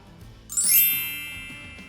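A single bright notification bell ding rings out clearly and then fades slowly over soft background music.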